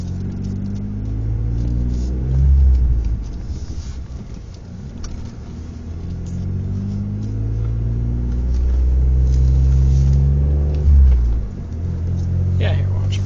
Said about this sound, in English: even though the exhaust makes a nice noise, it's not real loud